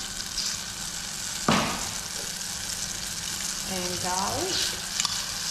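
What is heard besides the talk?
butter bubbling and sizzling in a pan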